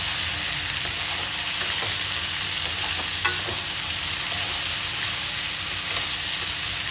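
Pumpkin pieces frying in a pan, with a steady sizzle and faint stirring scrapes running throughout at close range, no voices.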